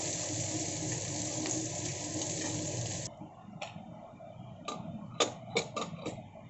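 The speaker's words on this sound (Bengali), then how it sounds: "এবারে আমি দিয়ে দিলাম থেতো করে রাখা রসুনটা আর পেঁয়াজটা, এটাকে একটু লাল করে ভেজে নেব।" Crushed garlic and onion fry in a pan, a loud steady sizzle that cuts off abruptly, followed by scattered clicks and taps of stirring, with no voices.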